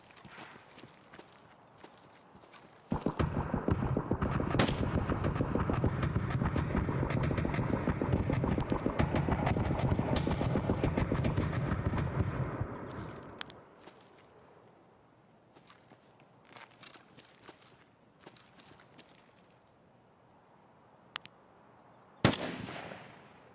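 Escape from Tarkov firefight: a dense, sustained roll of rapid gunshots runs for about ten seconds, then fades to quiet ambience broken by a couple of sharp isolated cracks near the end.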